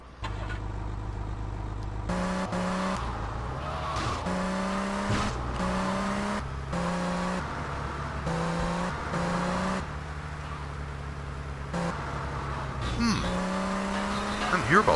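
A car engine driving in the video game Grand Theft Auto: Vice City, a steady low hum broken by repeated rising and falling revs as gears shift, with game sounds layered over it.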